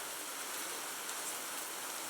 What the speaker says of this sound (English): I don't like that it's raining.